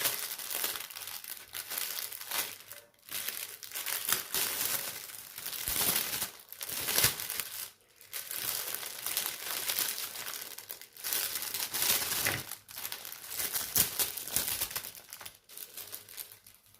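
Plastic packaging crinkles and rustles steadily for several seconds, close and continuous with short pauses, as a cross-stitch embroidery parcel is unboxed, with no talking.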